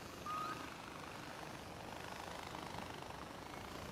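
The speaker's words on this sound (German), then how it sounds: "Hier oben ist nämlich ein Heli, deswegen." A helicopter in the video game Far Cry 4 gives off a faint, steady whirring rumble, distant and continuous, with no voices over it.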